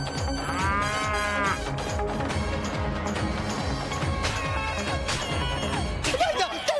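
A bull moos loudly and drawn-out amid busy background music and sound effects in a Hindi TV comedy scene, with clattering hits near the end.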